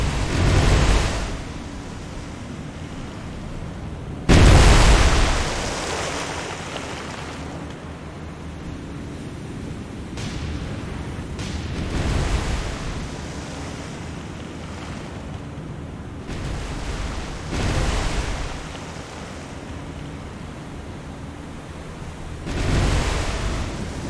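Explosions at sea in the naval combat video game War on the Sea, a heavy burst of noise followed by several rumbling blasts over a constant roar of wind and surf.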